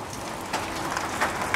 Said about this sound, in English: it starts raining. Actually, I think it might be hailing